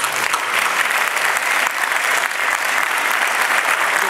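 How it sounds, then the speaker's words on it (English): A theater audience at a solar energy political forum gives a sustained round of applause, dense and even, filling the room without a break. "If we give all of them a huge round of applause."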